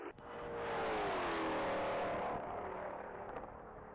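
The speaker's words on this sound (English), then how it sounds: "that Ford GT500 Shelby Cobra is on the mile of Stephen John" A Ford GT500 Shelby Cobra races at top speed down a one-mile course, its engine rising to a loud sustained roar that holds, then slowly fades as the car passes into the distance.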